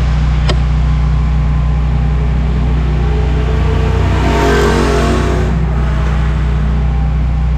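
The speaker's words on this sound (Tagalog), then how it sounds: "Paandarin mo na ngayon Jobs para marinig ng ating mga tropa ang galawan at andaran ng ating Honda TMX 125." A Honda TMX 125 motorcycle engine idles loud and steady with a deep low drone, then revs up briefly around the middle and settles back, heard close up with no talking.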